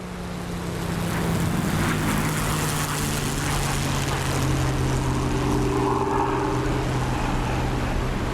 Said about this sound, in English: Who doesn't love a good Merlin whizzing by? Let's hear three of them at the same time